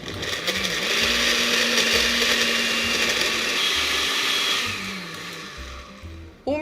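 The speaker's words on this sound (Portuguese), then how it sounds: "Para desmanchar a cenoura é só bater em velocidade máxima até ficar tudo líquido." Carrots are blended into liquid at top speed in a kitchen blender, a loud continuous motor whir with churning that holds steady before easing lower near the end, without talk.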